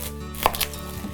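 An onion being chopped with a Kuma 8-inch chef's knife, a single crisp close cut against the board followed by a lighter knock, short and clear with no talking.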